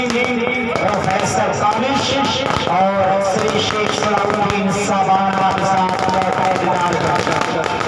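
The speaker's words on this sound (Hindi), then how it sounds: "बिल्कुल पटाखे की आवाज से गूंजता हुआ ये दिलकश नजारा इस ग्राउंड का।" Firecrackers burst in rapid crackling volleys at a volleyball tournament ground in Azamgarh, India, while someone talks over them, the pops sharp and continuous.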